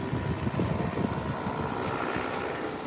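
A loud, fan-driven motor boat drones past on the Gulf beach water, its rough, throbbing engine roar steady and close, mixed with wind buffeting the microphone.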